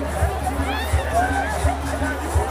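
A large crowd murmurs continuously at a Zanzibar Revolution Day celebration near midnight, with dense overlapping voices and soft low thumps pulsing at regular intervals.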